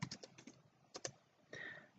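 Quick computer keyboard keystrokes while typing Python code, a rapid cluster of clicks, a pause, then a few more taps and a brief rattling run, close and fairly quiet.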